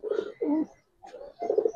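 Silver pigeon cooing close by in a few rounded, throaty phrases with a short pause between them, heard on its own without talk.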